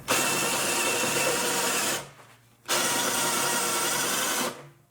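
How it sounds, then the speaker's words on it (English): A power drill bores out spot welds on the inner rocker panel of a Mercury Sable station wagon, two loud sustained high-pitched whining bursts separated by a short pause, with no talking. "let you look down at the process of drilling these spot welds"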